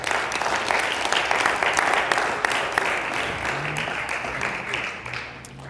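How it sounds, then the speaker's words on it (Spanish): Congregation applauding in church during a Bible study, a sustained mass of clapping at a steady level with a voice speaking faintly over it. "dele palmas al Señor"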